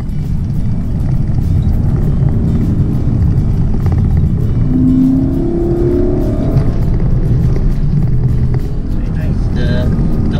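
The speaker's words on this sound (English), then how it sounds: "There's no auto upshift, so you bounce off the rev limiter." A Lexus LC 500 Convertible climbs Genting Hill under hard throttle, its engine roaring loudly and steadily with rising revs, heard from close range in the cabin.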